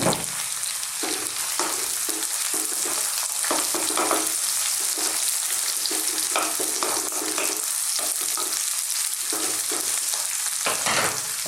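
Onions frying on high heat in a wok for chicken and mushroom fried rice, a loud steady sizzle with scraping stir strokes throughout.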